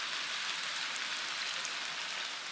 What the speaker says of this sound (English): I'm going to add a splash of water